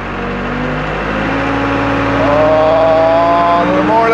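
A road roller's engine revs up close by, a loud steady drone whose pitch climbs and strengthens toward the end.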